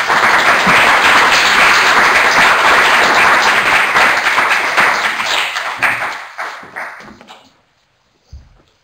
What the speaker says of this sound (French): peut-être qu'on peut applaudir très fort Marie-Hélène